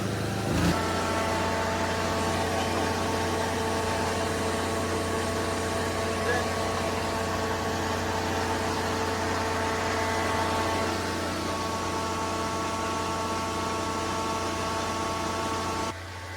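A carpet cleaning machine's gas engine turned up to maximum with its exhaust running, a loud steady droning roar with tonal hum that holds throughout and cuts off abruptly near the end, heard up close.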